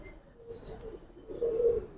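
Pigeons of a long-bodied Giribaz breed give soft, low cooing phrases, two brief coos with a faint higher chirp between them, close and fairly quiet.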